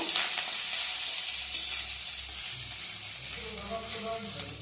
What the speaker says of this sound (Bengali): ঘিটা একটু নারকেলটা একটু ভেজে নেব